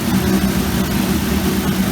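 A 2000 Honda S2000 with an LS V8 swap and a 77mm On3 turbo, fitted with new injectors and strapped down on a dyno, idles with a steady, lumpy, loud rumble up close.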